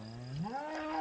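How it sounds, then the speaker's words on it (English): A cow gives a single drawn-out moo, rising in pitch and held, close by and clear, with no talk over it. "Those are happy cows"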